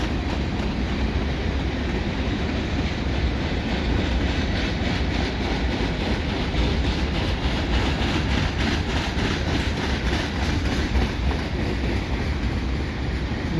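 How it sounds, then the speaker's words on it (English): CN mixed freight train with covered hoppers rolling steadily past close by, a continuous loud rumble with rhythmic wheel clatter over the rails throughout. "Here you have the covered hoppers."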